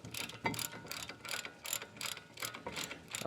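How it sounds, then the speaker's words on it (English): A half-inch ratchet with a 13/16 socket snugs down the front brake bolts on a Dodge Ram 1500, giving a quick run of rhythmic ratcheting clicks, close and steady, with no talk. "Now we'll take our 13/16 socket here and our ½ inch ratchet, and we'll snug these down."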